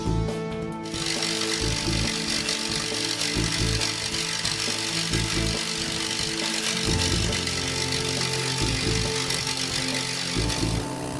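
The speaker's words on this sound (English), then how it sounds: "A needle scaler is used for thick layers of rust which are found scattered on a site and for rust found on uneven surfaces." A needle scaler chipping thick rust from steel on board a ship, a loud continuous rattling hammer that runs steadily from start to finish with no voices.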